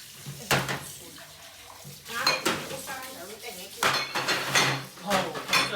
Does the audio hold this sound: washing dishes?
yes